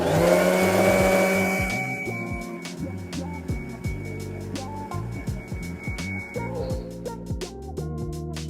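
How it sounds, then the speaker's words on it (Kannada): A kitchen mixer grinder blends fried seasoning spices for a Mandya-style country chicken curry, starting with a loud whirring roar that settles into a rattling, uneven grinding with repeated knocks and clatter, close and continuous. "ಒಗ್ಗರಣೆಗೆ ಹಾಕಿದ್ದೆಲ್ಲ ಆರಾದ್ಮೇಲೆ ಮಿಕ್ಸಿಗೆ ಹಾಕಬೇಕು."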